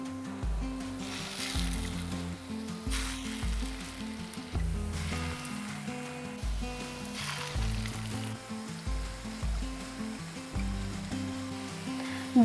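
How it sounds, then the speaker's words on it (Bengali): A poppy seed (posto) mixture fries gently in a pan over a low flame, giving a continuous soft sizzle while a steady melodic music bed plays underneath. "দু থেকে 3 মিনিট এইভাবে লো ফ্লেমে রেখে ভাজা ভাজা করে নিয়েছি।"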